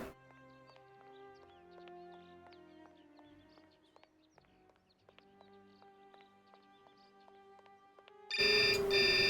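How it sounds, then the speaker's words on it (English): A phone ringing in the video game Syberia: a repeating electronic ring pattern over soft in-game ambience with faint hoof-like clopping, ending in a sudden louder burst of bright tones. "Phone call."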